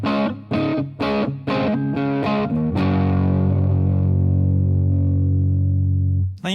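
Electric guitar through a Mad Professor Mighty Red Distortion pedal: a series of crisp distorted chord stabs, then a long sustained chord ringing out and slowly fading.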